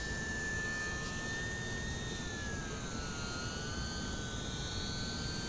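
E-Flite UMX Pitts S-1S RC model plane taking off inverted, a faint high electric motor whine that wavers in pitch over steady outdoor background noise.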